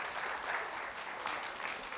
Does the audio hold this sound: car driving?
no